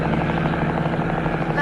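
An army helicopter flying overhead, its steady loud rotor thrum and engine drone filling the whole clip with a continuous rhythmic chop.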